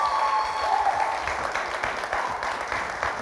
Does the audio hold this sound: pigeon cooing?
no